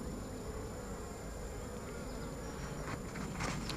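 Honeybees buzz steadily in a continuous, dense drone close by as a hive is opened and inspected, with a few louder rising passes near the end.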